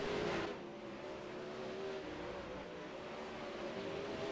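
360 winged sprint cars race on a short dirt track in the iRacing video game. Their engines drone steadily at a faint, distant level, with one brief swell at the start.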